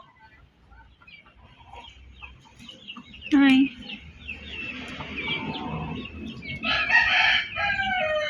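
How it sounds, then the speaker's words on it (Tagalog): Chickens on a backyard farm make nearby clucking and fowl calls, with a loud crow-like burst in the middle and another bird call near the end. A person speaks briefly. "laking manok ko"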